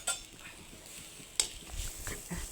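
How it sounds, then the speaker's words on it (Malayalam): Grated coconut roasts in a pan with a faint sizzle. A spoon stirs it, making a few soft scrapes and two sharper clinks against the metal, close but quiet, and no one talks. "നമുക്ക് ചട്ടിയിലിട്ട് നല്ലവണ്ണം വറുത്തെടുക്കാം."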